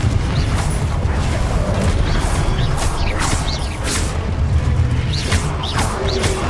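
Repeated booming spell blasts and whooshes from Hogwarts Legacy combat, including a Confringo fire explosion, burst one after another over a dense, noisy battle mix.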